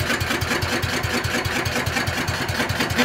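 A 1960s microcar engine idles with a fast, even putter of regular firing pulses. It sounds close and loud, steady throughout, with no speech.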